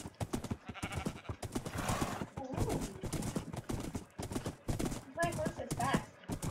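A horse gallops in Minecraft with rapid, regular clip-clop hoofbeats, fairly quiet and mixed with game sounds, while a person talks over it.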